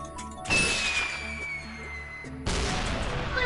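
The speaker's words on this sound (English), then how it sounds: "I can make fireworks." Fireworks going off in the Playroom VR video game, a sharp crackling burst with a rising whistle sweeping over it, then a second loud crackling volley, with electronic game music tones running underneath.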